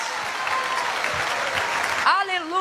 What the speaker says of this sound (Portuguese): quando for para aplaudir, vamos fazer com vontade